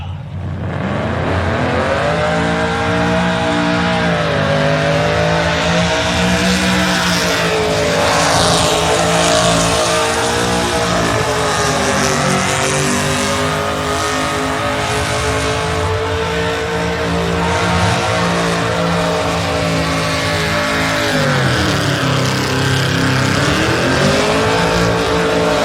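A naturally aspirated LS-engined car with no supercharger, limiter reportedly at 8,500 rpm, revs hard and sustained during a burnout competition in Bradenton, Florida, its loud engine note rising and dipping continuously with no voices.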